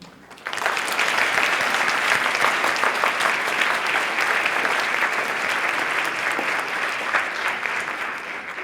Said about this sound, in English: Please join me for one more round of applause for this group